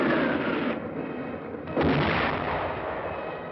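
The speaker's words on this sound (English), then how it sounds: "mortar, and artillery fire." Mortar and artillery fire in a World War II battle at San Pietro, Italy: a steady roar of distant shelling with a lull followed by a renewed, heavier burst.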